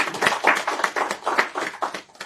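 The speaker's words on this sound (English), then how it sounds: "We can give him another round of applause." Audience applause at an agriculture ministry launch event, loud, close rhythmic clapping in steady bursts that tapers off toward the end.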